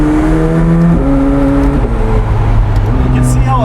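McLaren 765LT supercar under hard acceleration, its engine note climbing loud and close through rising harmonics with a brief shift, steady roaring throughout the short burst.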